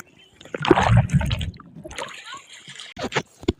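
A person jumps into a bathing pool or tank outdoors, making a loud burst of splashing and sloshing water that dies down into a few trickles, with voices nearby.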